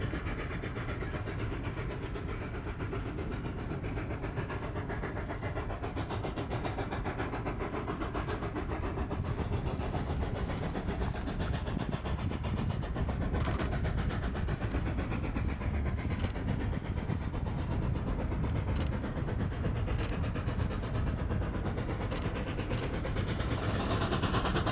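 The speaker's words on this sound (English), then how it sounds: "number 484 pulling a special geology train into the Conejos Range on this same stretch of rails" Cumbres & Toltec Scenic steam locomotive No. 484 hauling a special geology excursion train through the Conejos Range, a steady rumbling chuff with rail noise and hiss running throughout, loud and continuous with no voices.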